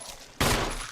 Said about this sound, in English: let's try and just shoot it